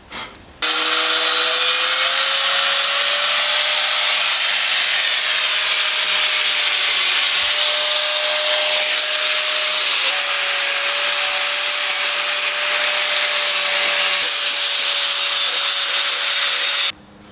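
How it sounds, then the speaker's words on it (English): A power grinder shapes an old steel hammer into a small adze, running loud and continuous for about sixteen seconds, its whine wavering slightly as the metal is worked, then stopping abruptly. "I'm going to need to do quite a bit of grinding to get this into the right sort of shape"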